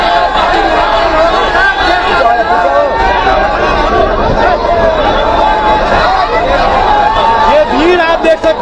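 Dense crowd gathered at a Rahul Gandhi rally at Patel Chowk in Bairgania, a loud continuous babble of many voices and shouts close by, steady throughout.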